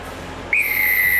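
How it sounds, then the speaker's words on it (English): A referee's whistle at a rugby Test between the All Blacks and the Springboks blows suddenly, a loud, sustained shrill blast that starts midway and holds to the end over a low crowd murmur. "Right, whistle blows,"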